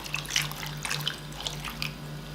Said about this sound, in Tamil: தண்ணி சேர்த்துக்குவோம்.